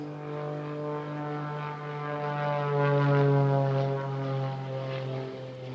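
A propeller-driven aerobatic aeroplane trailing smoke drones overhead at an airshow, a steady, buzzing engine tone that swells louder as it passes near, then eases slightly, with no voices heard.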